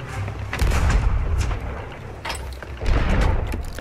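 Cannons fire at the Kraken in a video game, delivering several heavy booming blasts in quick succession over a dense rumbling background.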